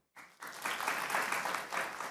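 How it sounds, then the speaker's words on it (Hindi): A studio audience at a Pakistani comedy talk show bursts into applause after a brief silence, quickly building into dense, sustained clapping that holds steady to the end. "अगर लोग मेरे साथ एग्री करते हो तालियां बजाएं।"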